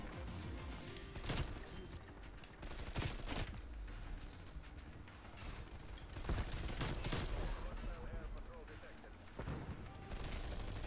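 Bursts of rapid gunfire from the Bull Frog submachine gun in Call of Duty: Black Ops Cold War, repeated volleys of automatic fire mixed with in-game clatter while a player talks over the action.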